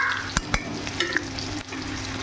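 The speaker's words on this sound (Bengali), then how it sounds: "এবার আমি আলুগুলো ভেজে নেব" Potatoes fry in oil tempered with bay leaves, a close, steady sizzle broken by a few sharp scrapes and taps of the spatula.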